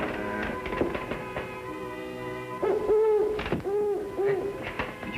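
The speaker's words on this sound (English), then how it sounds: "Oh, Fuzz, it's only a hoot owl." At night, an owl gives a series of hollow, wavering hoots that repeat several times over a humming, rustling background. The hoots are fairly clear and close.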